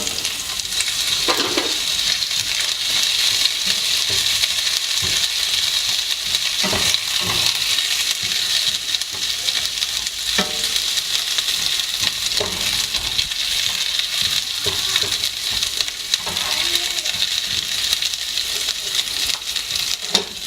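Green chilies sizzle and crackle in hot oil for a samosa potato filling, a steady loud fry with occasional stirring clinks throughout.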